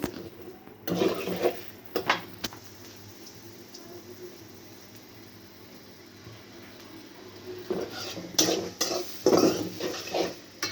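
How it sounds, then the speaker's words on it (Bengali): Onions added to a pan and stirred while cooking baila fish chorchori with potatoes, giving intermittent close clatter and scraping of utensil against pan over a faint background, with a quiet stretch in the middle. "এখন পেঁয়াজ দিয়ে দিচ্ছি।"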